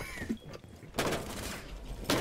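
Gunfire in Rainbow Six Siege, a sharp shot followed by a loud, dense burst and another close crack at the end, mixed with game noise and no clear voices.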